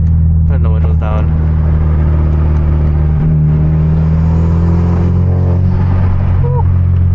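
A manual Genesis Coupe with loud exhaust and a turbo driving at night with the windows down, giving a steady deep engine drone and rumble that swells slightly midway, with brief voice sounds near the start.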